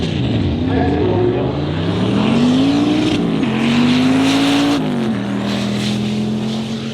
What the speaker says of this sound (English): Here's David Booth in the right lane, one of those CTSE, first generation